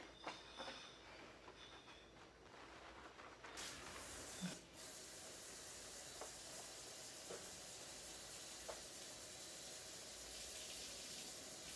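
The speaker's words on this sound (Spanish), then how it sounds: "Te estoy dando una segunda lava al pelo con el champú de cebolla" Running water pours steadily and close while hair is washed with onion shampoo, a continuous hissing spray with a few small splashes and shifts in flow partway through, and no talk.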